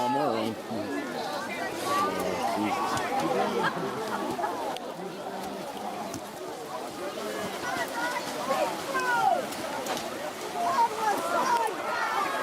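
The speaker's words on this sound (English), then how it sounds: "West Side crowd helping the officials with their honest opinions." Crowd at a boys varsity high school soccer match, West Rutland versus Arlington, shouting at the officials: a continuous babble of many voices with scattered louder yells, steady and fairly near throughout.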